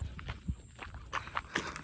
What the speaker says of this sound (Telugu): నేను నడిచే సౌండ్ వస్తుంది